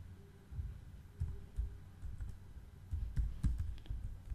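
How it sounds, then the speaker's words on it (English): Computer keyboard keys clack in short irregular bursts as a command is typed into a Git Bash terminal on Windows, close and fairly quiet. "you have to type the command Jekyll"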